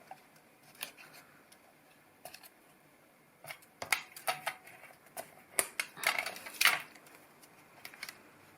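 Paper being creased and folded against a ruler while making a handmade gift box, sparse soft taps and crinkles building to a denser cluster of rustling and sharp presses near the end, close and quiet.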